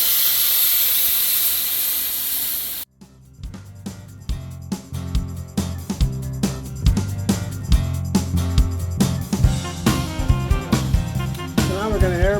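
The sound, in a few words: airbrush spraying paint on a wooden carving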